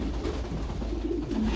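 Farm pigeons, some with clipped feathers, give soft, low, throaty coos that murmur steadily through a short stretch of quiet background.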